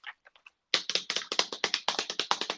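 Rapid typing on a computer keyboard, close and fairly loud, a quick run of sharp keystrokes after a few light taps, with no speech over it.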